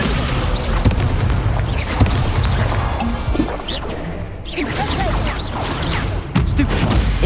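Spells in Hogwarts Legacy fire off as a continuous barrage of booming blasts, crashes and whooshing impacts, loud and dense throughout, with a shouting voice calling incantations among the effects.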